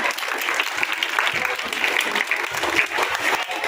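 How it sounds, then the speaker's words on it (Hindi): An audience at a government school's annual celebration and honours ceremony breaks into loud applause, a thick, continuous clatter of many hands with voices mixed in under the clapping. "तो एक बार जोरदार तालियां"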